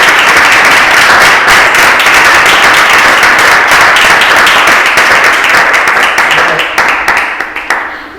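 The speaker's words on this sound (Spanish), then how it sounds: "lo primero que me gustaría era ir a pedir un aplauso en forma de agradecimiento por su presencia" An audience at a talk on the environmental problems of eucalyptus applauds the guest speaker, loud dense clapping from a close crowd that holds steady, then breaks into scattered individual claps as it dies away.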